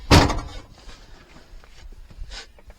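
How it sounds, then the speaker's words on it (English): An articulated lorry's cab door slams shut once, loud and close, followed by quiet cab ambience with faint small knocks. "Make sure you fully close the door after you."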